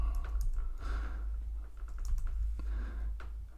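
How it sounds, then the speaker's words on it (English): Quick run of clicky keystrokes on a computer keyboard, entering a stock ticker, faint and close with uneven rhythm. "you just start typing, and it'll bring up the ticker that you want"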